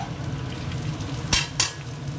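Capsicum, tomato, carrot and onion sizzle in a pan for chowmein. Steady frying hiss runs throughout, with two quick, loud scrapes of a spatula close up.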